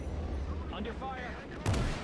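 Gunfire and artillery rumble in an Iwo Jima war video game: heavy low booms and a sharp blast near the end, loud and dense, with brief voice-like fragments in the mix.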